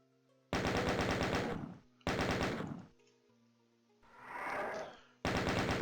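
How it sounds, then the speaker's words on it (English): Rapid chain gun fire in the video game DOOM, loud bursts of dense repeating shots broken by short pauses and a brief whooshing effect, with no voices. "Maybe just the chain gun."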